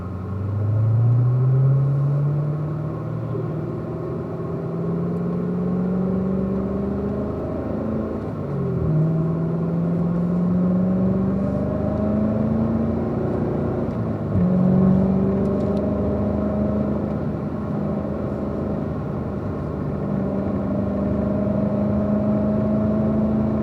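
A Chevrolet Corvette drives a warm-up lap on a race track, its engine droning steadily and rising in pitch through repeated gear pulls, with brief dips at each shift, loud and continuous throughout.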